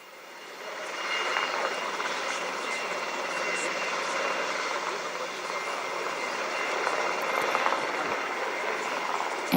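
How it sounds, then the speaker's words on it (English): Helicopters fly overhead carrying the flags of Bahrain and the Vatican at the closing of an interfaith forum in Awali, Bahrain, producing a broad, steady roar that rises after the first second and holds loudly throughout. "And we now see helicopters with both of the flags of the Kingdom of Bahrain and the papal flag extended."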